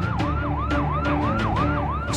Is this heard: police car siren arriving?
yes